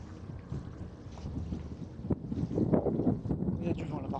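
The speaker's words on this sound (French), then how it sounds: "Il y a du vent là par contre." Wind gusting across a microphone at a hilltop monks' chapel near a cemetery, a steady buffeting rumble that swells and surges, with people talking faintly beneath it.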